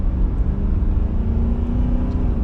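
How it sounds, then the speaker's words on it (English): A 2019 Nissan Titan XD PRO-4X pickup under mild acceleration on a highway produces a steady low engine drone from inside the cab, with a rising tone under road noise and no talking. "We'll do like a mild acceleration here because obviously everybody wants to feel it"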